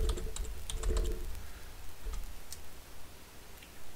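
A terminal command is typed on a computer keyboard, with a quick run of close, crisp key clicks at the start, then sparser taps trailing off into quiet.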